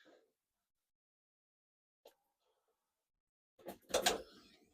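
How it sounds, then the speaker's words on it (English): Bathroom drawer in a Frankia NEO Rove motorhome pulled out, a brief soft click and then a louder sliding rattle and thump near the end, fairly close with quiet gaps between. "So if I pull this out just here, pull the drawer out first."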